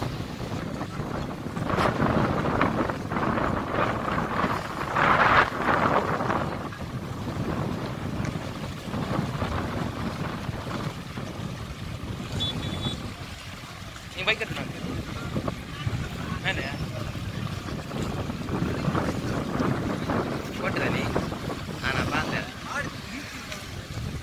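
Strong gusty cyclone wind buffets the microphone at Colachel harbour during Cyclone Ockhi, with water and boat noises underneath and voices talking at times.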